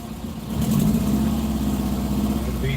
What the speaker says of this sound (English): Bus doesn't sound good.